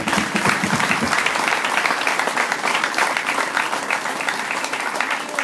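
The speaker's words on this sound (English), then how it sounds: "let's give them a round of applause" A high school commencement audience applauds the teachers with a sustained, dense wash of clapping that carries evenly throughout, after a brief voice at the very start.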